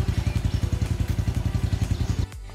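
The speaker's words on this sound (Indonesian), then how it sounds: "So kita akan pergi dengan motor sahaja." A motorcycle engine runs steadily with a fast, pulsing low thrum throughout, then cuts out abruptly near the end, leaving quiet background.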